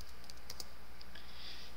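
Short burst of typing on a computer keyboard while entering a grub-install command during a Gentoo Linux install, a quiet, close run of light clicking keystrokes.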